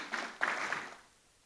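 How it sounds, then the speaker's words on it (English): Audience applause at a climate investment summit as a speaker walks on stage: a brief burst of clapping that swells, stays fairly dense, then tapers off. "Round of applause for Francis as he joins us on stage."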